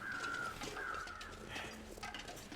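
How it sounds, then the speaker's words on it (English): Disturbed crows caw in the snowy wilderness of the video game The Long Dark, with a few drawn-out calls at a moderate distance over constant wind-like ambience. "Something's disturbed some crows over there."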